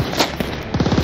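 Rapid automatic gunfire from the shooter game Call of Duty Vanguard, a loud close burst of several quick shots in a tight rhythm lasting about a second.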